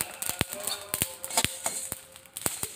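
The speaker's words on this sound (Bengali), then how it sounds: "তো দেখুন এই যে ভাজা হচ্ছে তার শব্দ" Dry whole spices roasting in a hot wok for pickle masala, giving sparse, sharp crackles and pops with quiet gaps between, fairly soft and close.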